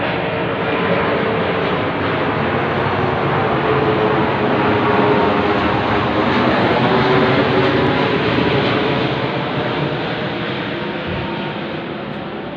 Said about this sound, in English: Here comes another military jet